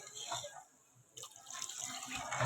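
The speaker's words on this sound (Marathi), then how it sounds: "आता आपण पाणी टाकूया थोडं कोमट केलं ना पाणी" Lukewarm water is poured into masala frying in oil for a bangda fish curry, a steady splashing pour that dips briefly and then resumes, loud and close.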